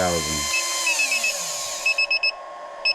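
A 19-turn brushed modified RC motor on an Eagle Racing dyno spins down from a loud whine into a falling high-pitched tone, followed by short repeated electronic beeps near the end.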